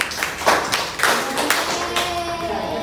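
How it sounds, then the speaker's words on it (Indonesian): Schoolchildren in a sixth-grade classroom clap for a group after its presentation, a dense burst of close hand claps that stays steady for about three seconds. "Tepuk tangan untuk kelompok 1"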